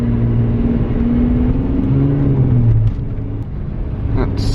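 A Ram EcoDiesel pickup towing a 4500 lb trailer pulls away with a steady diesel engine drone and a low, shifting rumble, heard from inside the cab with someone speaking over it.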